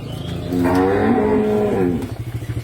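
A Brahman dairy cow with her calf gives one long, loud, low moo close by at a dairy farm, with farmyard background noise before and after.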